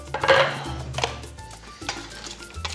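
A spoon stirs diced tomatoes and red lobster shells in a pot, making a few clanking and scraping knocks against the metal with a faint low hum underneath.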